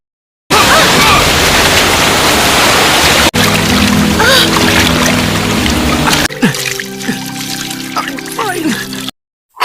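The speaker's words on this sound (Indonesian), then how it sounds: "Tempat penampungan air bocor dan mengguyur mereka." Leaking water tank gushing water down onto people, a loud broad rushing pour that cuts abruptly into a calmer trickling, splashing stretch with tonal hum underneath before stopping.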